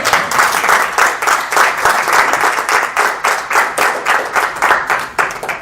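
A church congregation applauds in a loud, dense, sustained burst of clapping that pulses rhythmically throughout, with no talking over it.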